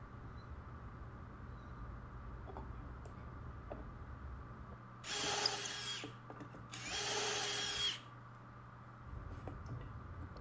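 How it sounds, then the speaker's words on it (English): Two short bursts of a power drill boring dowel holes into wooden table legs for the lower aprons, each lasting about a second or two, close and fairly loud over a low steady background hum. "I proceeded adding the dowel holes to the legs to accept the lower aprons."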